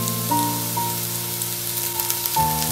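Ground spices including coriander, garam masala, red chili and black pepper roast lightly in a pan, giving a steady soft sizzle beneath a low background hum.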